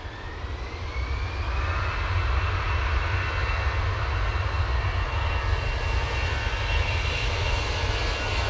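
Jet engines of an Airbus A321ceo departing Manchester Airport roar loud and steady at full takeoff power, a broad continuous rumble with no talk.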